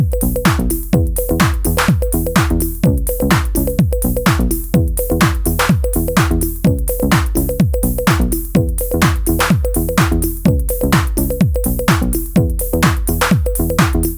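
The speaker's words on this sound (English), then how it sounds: "something sounding a little more African through a little bass line that has like those thirds" A driving African-style house groove on a Nord Drum 3P where kicks and percussion drive under a bouncy, plucked marimba-like bass pattern that moves in thirds, dense and loud throughout.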